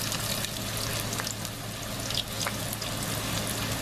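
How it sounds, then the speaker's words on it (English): Chicken skin frying in hot oil for cracklins, a dense, steady crackling sizzle that fills the whole stretch, close and fairly loud with no talking. "I'll just do these two and then I'll fry the rest of them"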